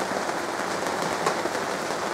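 Rain falls steadily on surfaces on a rainy day, a soft, continuous hiss and patter with no voices, constant in level throughout.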